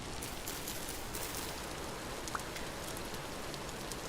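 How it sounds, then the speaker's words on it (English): Steady rain pouring in the Vintage Story video game world, a dense continuous hiss of drops with no talk, even and moderately faint. "I kind of want to get out of this rain"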